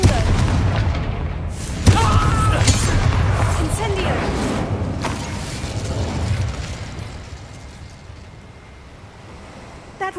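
In Hogwarts Legacy, blasting Confringo spells set off heavy booming explosions, two sharp bursts with rumbling debris that fades away, while game characters' voices sound underneath.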